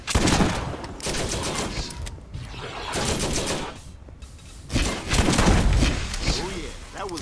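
Grenade blasts and bursts of gunfire in the video game Borderlands, loud and dense, with heavy thumping impacts and rapid shooting filling most of the stretch, easing briefly between volleys.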